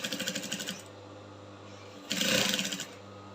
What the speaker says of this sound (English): So make sure you sew on the already existing line.